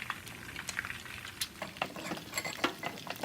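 A boiled egg being stir-fried in a pan for son-in-law eggs, with close, irregular scraping and tapping of a utensil over a soft, steady sizzle, and no talking.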